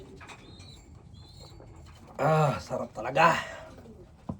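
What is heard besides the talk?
pet birds cooing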